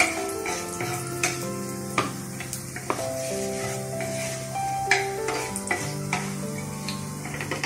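Cumin seeds and a bay leaf crackling in hot oil, a moderate sizzle with scattered pops and occasional utensil clinks, accompanied by sustained tonal background music and no speech.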